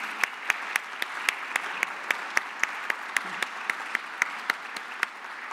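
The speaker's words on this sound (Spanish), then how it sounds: "aquí invitado al doctor Enrico Ramírez Ruiz, para quien pido un aplauso." Applause from a lecture audience welcoming a guest speaker, a steady bed of clapping with regular, sharp louder claps standing out at a quick even rhythm throughout.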